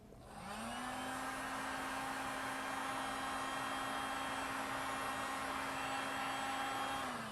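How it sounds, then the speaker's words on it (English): A heat gun gently warming a beeswax sheet for rolled mini pillar candles gives off a steady, even blowing whir with a constant motor tone that holds nearby for several seconds, with no talking. "I'm going to take the heat gun and very gently we're going to heat it up"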